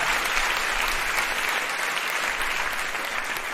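Steady applause from a crowd, a dense continuous wash of clapping that holds at an even level from start to finish, with no speech over it.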